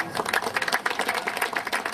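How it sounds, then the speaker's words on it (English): Applause for the parents at a youth girls' soccer finals gathering, a lively burst of many hands clapping close by, uneven and rippling for a couple of seconds. "So, round of applause for all the parents, please."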